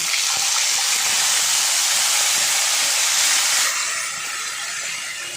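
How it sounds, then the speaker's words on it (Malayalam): Mustard seeds tempered in hot coconut oil and poured into a curry give off a loud, steady hiss of sizzling that eases slightly toward the end, with no voices. "വെളിച്ചെണ്ണ ചൂടായിട്ടുണ്ട് കേട്ടോ കടുക് ഇനി നമുക്ക് കറിയിലേക്ക് ഒഴിച്ചു കൊടുക്കാം"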